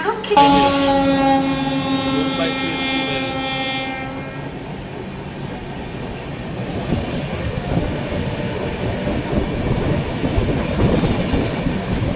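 A train pulling into Uluberia station on the Digha–Kolkata line sounds a long horn blast at the start, then wheels rumble steadily on the rails for the rest, loud and close.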